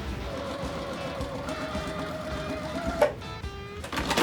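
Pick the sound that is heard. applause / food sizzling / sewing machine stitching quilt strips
sewing machine stitching quilt strips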